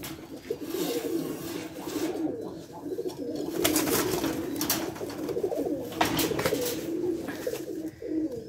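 Rajshahi Giribaj pigeons cooing close by, repeated soft throaty coos overlapping continuously, with scattered wing flutters and rustling in between.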